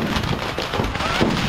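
Rapid crackling bursts of fireworks going off in dense succession at a fireworks display in Oroquieta, Misamis Occidental, loud and close, a continuous popping barrage.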